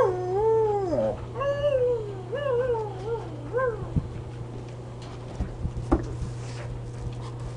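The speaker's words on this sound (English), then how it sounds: "The amazing trick circus dogs." A dog howls and whines in rising and falling wavering tones for several seconds, followed by quieter shuffling and a short yelp.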